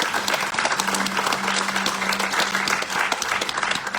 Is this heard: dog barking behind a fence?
no